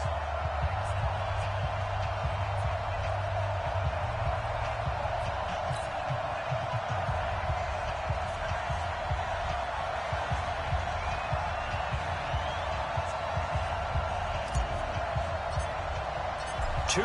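A stadium crowd in a PS4 American football video game, 49ers against Raiders, keeps up a steady, distant roar throughout while a commentator talks over it.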